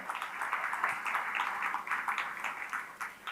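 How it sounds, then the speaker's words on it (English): At the BBQ Awards 2023 in South Africa, an audience gives steady applause, a soft, fairly distant patter of many hands clapping unevenly through the whole stretch, with no voices over it. "I would like us to give them all a round of applause for putting all of this together"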